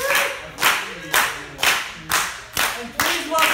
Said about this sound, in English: Start clapping.